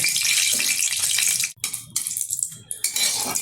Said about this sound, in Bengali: তেলের মধ্যে দিয়ে দিচ্ছি দুটো শুকনো লঙ্কা। শুকনো লঙ্কাটা একটু ভালোভাবে ভেজে নেব।